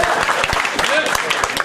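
An audience at a university debate applauds, with dense, steady clapping that fills the whole stretch at a fairly loud level.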